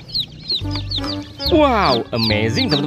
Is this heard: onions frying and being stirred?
no